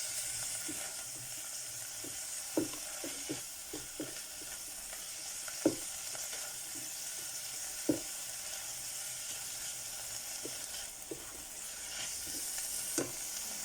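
Chopped onions frying in a pan for a homemade New Zealand steak pie, a steady hissing sizzle throughout with scattered soft clicks and taps from stirring, close and moderately quiet, no talk.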